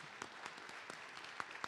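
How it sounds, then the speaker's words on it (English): Light applause from a modest crowd at a city council session, a soft scattered patter of clapping with a few sharper individual claps, brief and fairly distant. "Yeah, round of applause."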